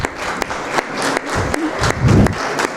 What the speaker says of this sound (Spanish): recibir con un fuerte aplauso a la doctora Cecilia Acuña